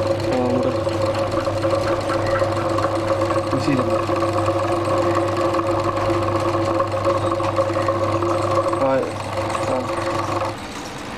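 An induction motor, used as a stand-in for a ship motor in a fault-detection setup, hums steadily with a constant tonal drone and a slight change near the end, loud and close with no talk over it.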